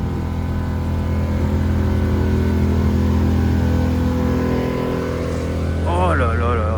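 Motorcycle fitted with a Hayabusa engine idles with a loud, steady low rumble close by, then revs sharply near the end with rising and falling engine pitch.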